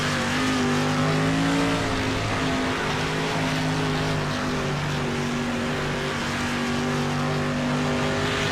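Street stock race cars roaring around the Volusia dirt track on a restart, many engines droning and revving together loudly and continuously, with the pitch rising and falling as the pack accelerates.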